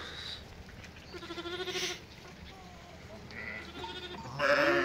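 Milk-fed lambs and their ewes bleat as they reunite on a farm, several close overlapping calls rising and falling, with one loud burst near the end over a quiet background.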